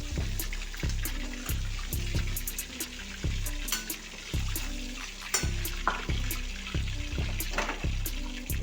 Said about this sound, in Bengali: আস্তে আস্তে ভাজা হতে দেবো এগুলো।